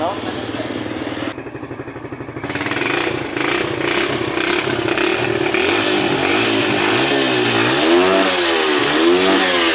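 A motorcycle engine revs on a road test after a knuckle bearing replacement, a loud close buzzing drone that dips, then surges and swells through repeated rising and falling revs, with a person speaking over it.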